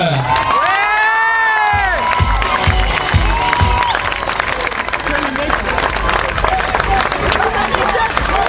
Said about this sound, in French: un tonnerre d'applaudissements pour les coachs